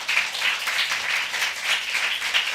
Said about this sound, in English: Another round of applause for all our poets.